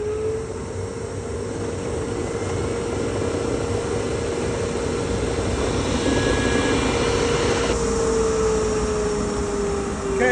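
A Laguna KX:24 CNC router cutting signs while a dust collector runs, a loud, steady, continuous whine and roar with a sustained tone that shifts slightly in pitch.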